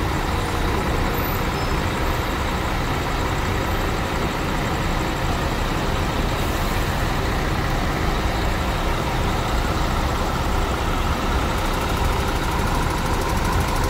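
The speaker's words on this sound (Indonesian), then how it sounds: "UHD yang lama dari Gunung Harta dengan mesin Volvo" An old Gunung Harta UHD bus with a Volvo engine idles while parked, a steady low rumble that holds unchanged throughout, with no voices over it.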